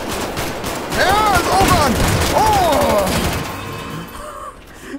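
Rapid bursts of video-game gunfire from GTA 5, loud and dense under excited shouting players talking over the shots.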